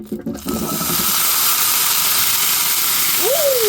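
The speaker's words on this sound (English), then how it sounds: "last job for the pan, just using up the last of that oil that's in there, is I'm going to fry off some chickpeas" Chickpeas frying in leftover hot oil in a pan give a steady, loud sizzling hiss after a brief clatter at the start, with a short rising and falling tone near the end.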